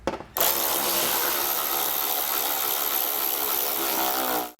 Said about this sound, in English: we can take a 10mm socket and remove the 3 bolts holding our fascia to the frame